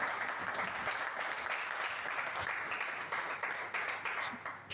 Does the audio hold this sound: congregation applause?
yes